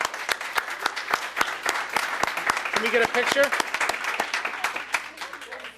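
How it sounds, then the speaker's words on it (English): A town board meeting audience claps in a round of applause, sharp individual claps ringing out steadily and fairly close, while a voice speaks briefly partway through. "Everyone, big round of applause."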